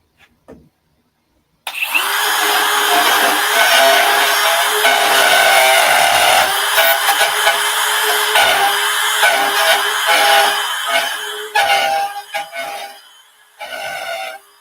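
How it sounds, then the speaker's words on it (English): A router bit freehand cutting into a wooden cutting board, starting from a drilled hole: a loud, steady high-pitched whine with grinding bite that starts abruptly after a brief silence, runs continuously, then tapers off near the end. "I'm using the router bit to just freehand"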